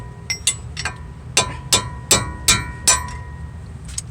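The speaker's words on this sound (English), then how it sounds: "take my chisel and just give this a few little love taps from behind" A chisel taps a wheel stud out from behind on a Pontiac G6 hub with about eight sharp, close metallic knocks in an uneven rhythm, some in quick pairs, with no talk.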